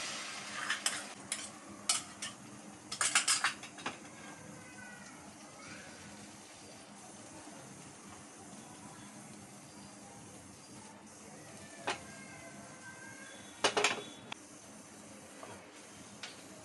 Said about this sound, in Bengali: এবার আমি এটাকে প্যানের ওপর দিয়ে দিচ্ছি।